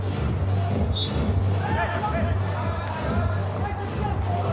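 Stadium crowd at a beach soccer match in Moscow murmurs in a steady, dense babble with shuffling, a continuous near-uniform hubbub throughout.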